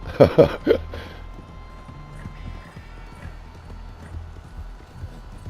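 Horse hooves clip-clopping at a run in Red Dead Redemption 2, with a few loud close thuds at the start, then a steady softer rhythm of hoofbeats continuing alone.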